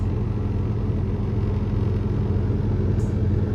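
A truck engine runs under a pressed accelerator, giving a steady, close, heavy low rumble with a slight rise and no speech.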